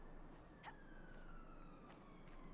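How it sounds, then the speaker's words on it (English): An ambulance siren sounds faintly outside near a hospital, a steady wailing tone rising and drifting across a quiet room. "That is an ambulance."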